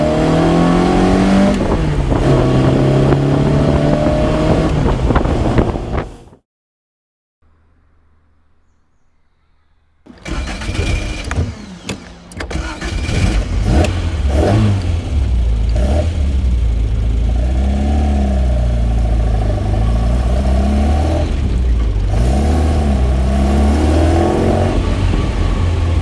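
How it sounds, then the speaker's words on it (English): Small car engine with an aftermarket intake, heard from inside while driving, rising and falling through revs in loud, drawn-out surges, with a short silent break before the engine noise picks back up and carries on strongly. "the intake noise is definitely louder, which is a good and bad thing."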